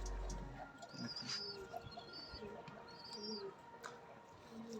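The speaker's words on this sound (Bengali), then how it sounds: "পায়রা দুটো এটা মেল ফিমেল রয়েছে" A pair of male and female high-flying pigeons at a home breeder's loft give soft, low cooing calls with a few thin chirps. The sounds are faint and intermittent against a quiet background.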